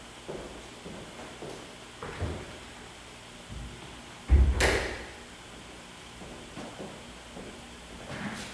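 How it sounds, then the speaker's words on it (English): The back door of a tropical fish shop is unlatched and pushed open, giving a sharp clunk and rattle amid soft scattered knocks and shuffling in a quiet room. "We'll get the back door as well."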